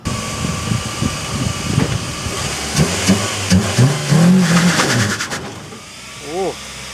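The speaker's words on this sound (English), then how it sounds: "We'll take it off the hoist and we'll try and peel a skid." Car fitted with a cheap phantom-style limited-slip differential revving up and spinning its rear wheels in a skid, a loud rising engine and tyre roar swelling then fading near the end, with people talking over it.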